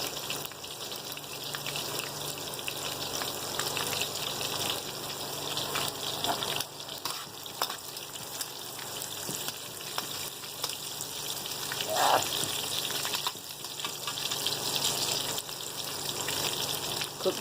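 Breaded prawns frying in hot oil, a steady dense sizzle running for the whole stretch with small crackles and a brief bubbling burst midway, fairly close and constant in level.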